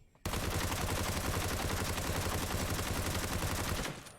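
Sustained automatic gunfire in the video game Ring of Elysium, one continuous rapid burst of shots close and loud for nearly four seconds before cutting off.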